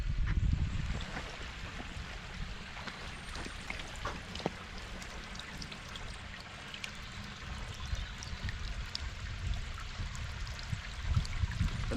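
Water spilling down a newly built garden pond cascade, a continuous soft rushing and splashing with no break, moderately quiet and close with no talk over it.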